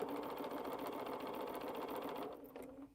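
A sewing machine runs steadily with a fast mechanical whir and rapid needle chatter, then slows and winds down near the end, at moderate distance, with no talking.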